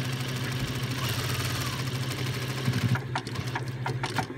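A sewing machine stitches down the seam allowances along the top of a bag, a steady mid-pitched mechanical hum running throughout, followed by a few sharp clicks and taps near the end.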